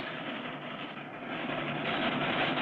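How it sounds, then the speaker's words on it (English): A small cartoon train rolls across a high railway bridge in the Northwoods, a steady broadband rumble and rush that grows slightly louder, with no talking over it. "As the little train starts across the bridge,"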